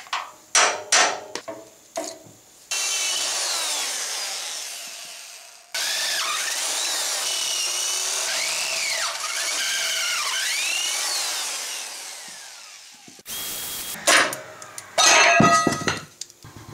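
Close, loud drilling into a metal transfer case mount plate: sharp knocks give way to long whining runs of the drill with shifting pitch, then more clanks and rattles.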